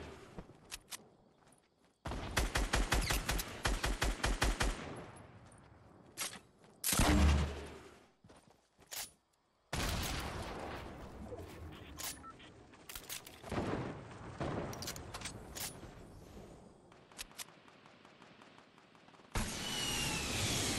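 Rockets firing in a multiplayer video game: loud bursts of launches and explosions in several clusters separated by brief silences, with one heavy boom, a chaotic, busy battle soundscape.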